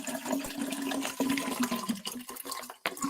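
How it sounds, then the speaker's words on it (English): Water poured into a drinking bottle, a steady continuous gurgling fill with a rising tone, fairly close and unbroken for about three seconds. "I'm pouring water in my bottle, so it's easier for me to sip"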